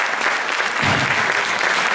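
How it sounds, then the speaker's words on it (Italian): Brief burst of audience applause at a union cultural event, dense close clapping from a crowd, continuous across the moment. "Io la ringrazio per l'applauso che sovviene"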